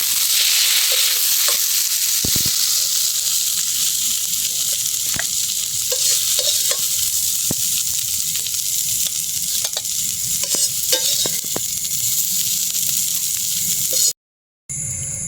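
Chopped tomatoes fry with ginger and garlic in a pan. A close, continuous sizzling hiss plays alone, with scattered spatula knocks and scrapes as the mix is stirred, then a short gap near the end.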